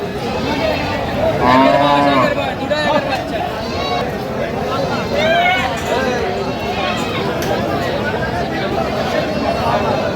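Cows with calves at a rural cattle haat in Aftabganj moo loudly and repeatedly, with several drawn-out calls rising above a dense crowd of bargaining voices and general market chatter.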